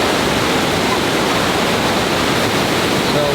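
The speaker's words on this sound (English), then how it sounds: "Wow, that is a lot of water flowing through there." The Rogue River rushes into a lava tube in the Rogue Gorge in Oregon. It makes a loud, constant, broadband roar of heavy whitewater, close by and unbroken, with no other sounds standing out.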